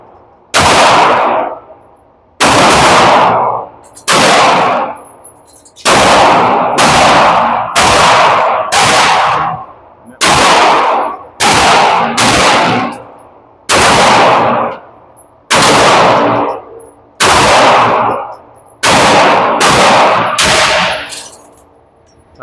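Pistol shots ring out from a Sig P320 and an S&W M&P, about a dozen loud, sharp cracks spaced a second or two apart, each leaving a brief ringing decay, with no talking.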